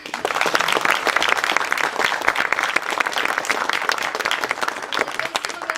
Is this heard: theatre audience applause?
yes